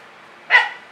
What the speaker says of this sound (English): It's time for feeding the dogs.